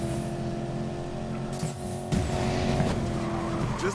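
A Porsche Panamera Turbo tears around under nitro boost in Need for Speed Payback, with a steady, loud engine drone that briefly dips before surging back with a tire screech and skidding through the rest of the run.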